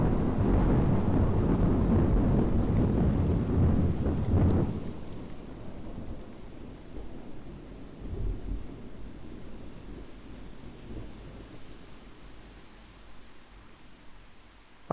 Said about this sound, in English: the shushing of the wind and rain washed away the thoughts from his mind, and the bass of the thunder quelled the weights in his heart